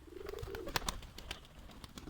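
Soft cooing of domestic pigeons, a low throaty murmur near the start, mixed with scattered clicks and rustles in the background.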